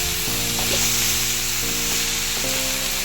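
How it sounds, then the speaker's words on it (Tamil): A cabbage and carrot stir-fry with onions sizzles steadily in a pan while being mixed, a constant close frying hiss under sustained tonal background music. "வெங்காயத்தில் உப்பு சேர்த்துக்கிறதுனால எல்லாத்தையும் படும்படி மிக்ஸ் பண்ணிக்கலாம்."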